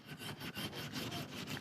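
Hand sanding a cured CA glue finish with a 400 grit pad, close rhythmic back-and-forth rasping strokes, about eight passes in quick regular succession with no talk.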